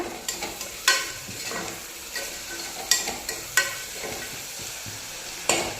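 Onions fry with a little salt in a pan while being stirred for mutton biryani, a loud steady sizzle broken by repeated scraping clinks of the spoon against the pan.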